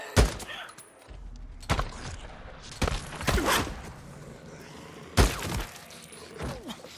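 Scattered gunshots from firearms in Days Gone, a handful of sharp, separate cracks spaced a second or two apart with quieter movement between them.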